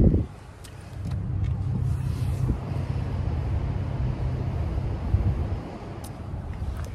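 Inside a moving car, a steady low road and engine rumble holds throughout with a faint airy hiss above it, fairly loud and continuous, with no one speaking.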